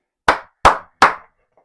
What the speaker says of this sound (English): Clappy, clappy, clap.